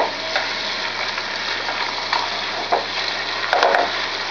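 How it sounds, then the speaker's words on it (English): Bacon, onions and stuffing ingredients fry in butter and oil in a pan, giving a continuous close sizzle and crackle with occasional stirring scrapes and pops toward the end. "what we're going to do is just fry that off"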